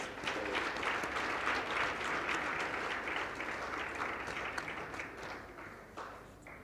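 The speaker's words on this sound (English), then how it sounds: "Shall we give the Premier another round of applause?" A crowd at a KwaZulu-Natal school sports, arts and culture launch applauds the Premier, giving sustained, moderately distant clapping that continues evenly for over six seconds before tapering slightly.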